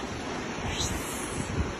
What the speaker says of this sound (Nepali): अहिले झर्ना झर्यो